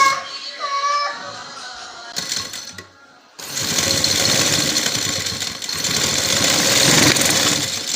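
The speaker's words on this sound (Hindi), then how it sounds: "ये हमने रफ स्टिचिंग कर लिया" A sewing machine rough-stitching decorative points on a trouser cuff design runs steadily and close up for most of the clip, after a brief quiet start with soft handling noises.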